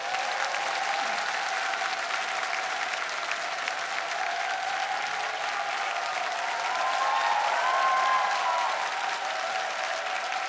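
A studio audience on a Korean music show applauds to welcome the singer, dense sustained clapping that swells slightly toward the end, with no voices above it.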